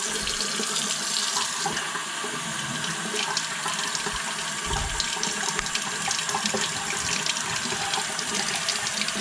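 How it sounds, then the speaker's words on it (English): Water from a tap pours in a large, steady flow through a PW100 personal vortex generator, a continuous loud rushing and splashing that holds even for the whole stretch with no talking. "a very large flow of water can go through here, and it just is not impacted whatsoever"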